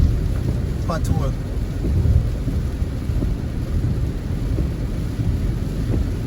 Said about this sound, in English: Rain has come down now.